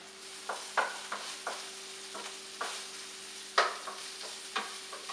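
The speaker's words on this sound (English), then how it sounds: "Keep a nice eye on those onions too. You want to mix them every so often." Onions frying in a pan are stirred with a utensil, giving a soft steady sizzle under a series of irregular light scrapes and clicks, close and fairly quiet, with a faint electrical hum behind.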